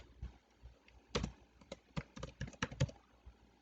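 Faint, close typing on a computer keyboard while entering text in a word processing document: irregular keystrokes picking up pace into a quick run of clicks, with no voices.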